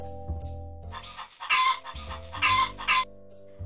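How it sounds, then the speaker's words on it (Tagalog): A rooster crows in two close bursts, a short opening call followed by two loud strained calls, with a low steady hum running underneath. "Nagtuktugaok ang manok."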